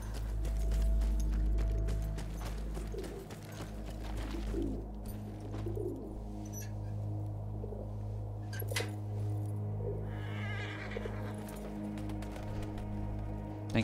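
Horse hooves clip-clop steadily in Battlefield 1, a soft rhythmic patter under a low engine-like rumble, with faint bird coos drifting through.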